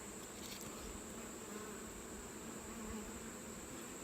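Honey bees buzz in a faint, steady drone during a hive inspection on a hillside hive, a continuous low hum with no voices.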